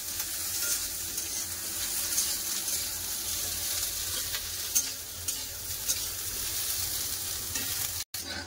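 Soybean chunks frying in leftover onion-frying oil in a pan, with a steady close sizzle and occasional scraping stir strokes, cut briefly by a short dropout near the end.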